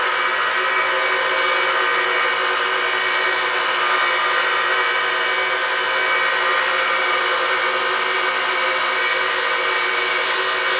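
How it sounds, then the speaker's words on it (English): Brass tube held against a spinning buffing wheel in a workshop, a steady, loud whirring hiss with a bright grinding edge that holds unbroken throughout, with no talking. "go over here on my buffing wheel"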